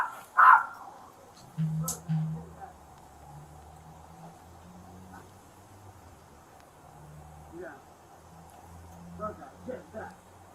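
A dog barks a few times up close, sharp yelps early on with lower woofs after, while a voice shouts at it in the room.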